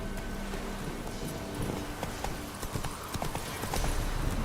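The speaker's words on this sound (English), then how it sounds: "Whoa there, Roach" Horse hooves clip-clop at a steady galloping beat in The Witcher 3, carrying on for a few seconds with little else over them.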